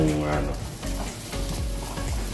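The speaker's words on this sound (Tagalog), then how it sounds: "ipapry lang natin itong patatas" Potatoes fry in a pan with a constant crackling sizzle, interrupted by stirring scrapes and soft clinks, heard up close.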